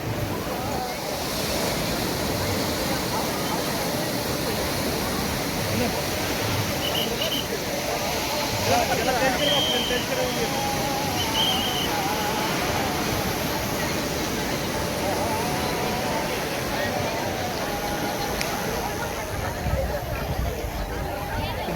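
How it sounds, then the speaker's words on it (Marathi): Sea waves wash continuously onto the shore at Kunkeshwar during the temple fair, a steady broad roar with wind noise and a faint background murmur of people. "मस्तपैकी या समुद्राच्या लाटा"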